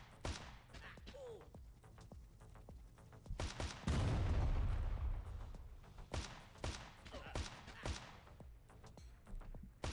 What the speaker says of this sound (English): Great placement of all these big bombs. The big blowing up bombs here.